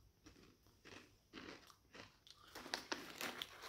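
Goldfish cheesy tomato veggie crackers being bitten and chewed close up, a series of crisp crunches that grow denser and louder toward the end, quiet otherwise.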